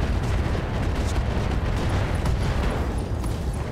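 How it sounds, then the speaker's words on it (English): Heavy Gauss rifle exploding in a mech combat video game, a dense sustained roar of blasts and booming impacts filling the whole stretch at steady loudness, with no talk. "heavy Gauss rifle explosion"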